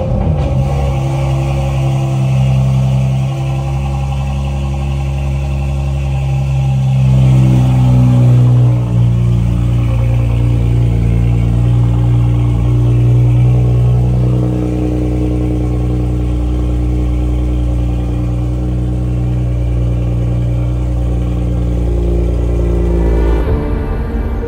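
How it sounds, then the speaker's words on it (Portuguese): A BMW M2 Competition engine starts cold and settles into a loud, steady, deep idle with a brief rise in revs partway through, heard up close and alone. "Vou gravar aqui o Cold Start. Tá braba. M2 Competition."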